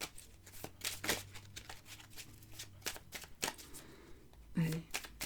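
A deck of oracle cards being shuffled up close in quick riffling bursts and flicks, with a brief voice near the end.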